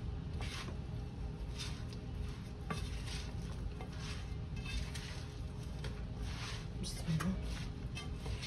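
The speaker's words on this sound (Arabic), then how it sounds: "نقلبها عشان البهارات." Chicken in tomato sauce with spices and water gets stirred in a pan, soft repeated scraping and squishing strokes with a faint sizzle, close up while someone speaks.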